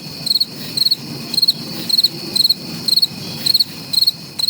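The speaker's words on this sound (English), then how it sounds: "Ah, yes, crickets." Crickets chirp in steady, evenly spaced bursts of high trills, fairly close and continuous over a quiet low background.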